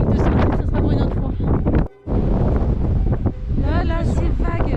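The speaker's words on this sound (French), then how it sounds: "Je sais pas si vous voyez le vent, ça soulève les vagues." Strong mountain wind blows hard by alpine lakes, whipping up waves. The gusts batter the microphone as a loud, continuous roar with only a brief lull.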